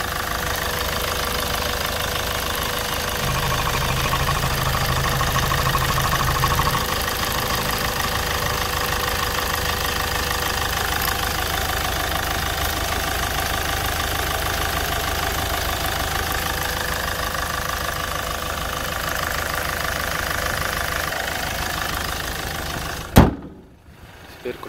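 2008 Hyundai i30 with a 1.6 diesel engine, idling steadily with a continuous, even clatter close up for the whole stretch, then cut off by a thump near the end; someone talks briefly.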